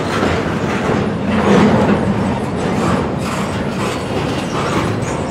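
CSX freight train Q130, hauling containers, double stacks and auto racks, rolls past close by with a loud, steady rumble and rhythmic clickety-clack of wheels throughout.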